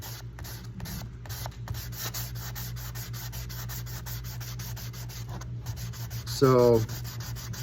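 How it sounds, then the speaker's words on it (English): Sandpaper rubs across the top of a 100-year-old wooden golf driver head in steady, close scratchy strokes under a low constant hum, and a voice briefly speaks near the end. "looking pretty dusty right there with the sandpaper."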